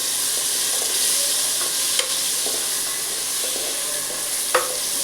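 Soya chunks with a little salt sizzle in a pan, a continuous bright hiss with a few sharp spatula scrapes and knocks against the metal.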